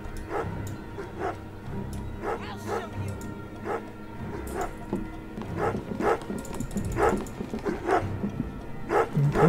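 A dog in the horror video game Remothered: Broken Porcelain barks and yips in a repeated series of sharp, fairly loud calls, mixed with game sounds and someone talking.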